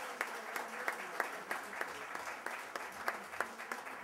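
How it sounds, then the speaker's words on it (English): Audience clapping at a cybersecurity symposium awards ceremony, a moderate, somewhat sparse round of applause from a modest crowd with individual claps standing out rhythmically, continuing steadily throughout. "Let's give them a big round of applause"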